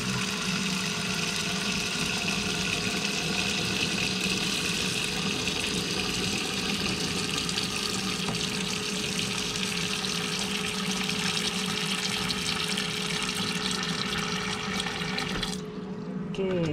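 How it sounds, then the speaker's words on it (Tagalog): Tap water runs steadily into a cooking pot in a home kitchen, a continuous rushing stream that carries on without pause until it cuts off near the end. "ito ning butang tubig kay ato ang lutoon"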